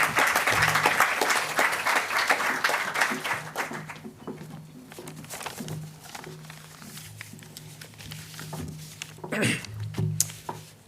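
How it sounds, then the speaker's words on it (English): A crowd at a global citizenship education event applauds loudly for about four seconds, then the clapping fades as a voice begins speaking over a low steady hum, with scattered claps lingering. "So big round of applause for our two."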